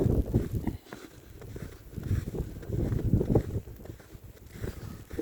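Strong blizzard wind buffets the microphone in Victoria, Minnesota, a dense low roar that surges and eases in gusts, close and loud, with no voices.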